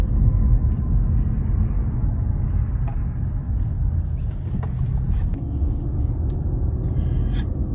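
Car driving around, a steady low engine and road rumble from inside the cabin with occasional faint clicks and knocks, continuous and fairly loud throughout.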